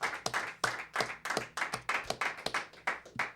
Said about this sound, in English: I'd also like to give a big round of applause and a thank you to our friend Doug Hubbard.